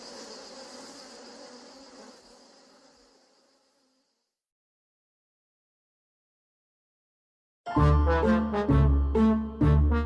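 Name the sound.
bees buzzing around a hive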